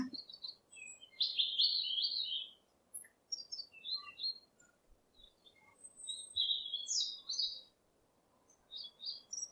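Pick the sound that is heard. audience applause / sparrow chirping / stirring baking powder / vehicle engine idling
sparrow chirping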